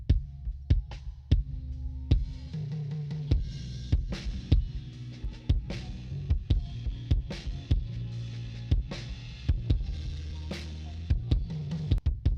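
Deep electronic kick drum hits thump in a steady repeating pattern, punchy and booming, with sustained low tones between the beats.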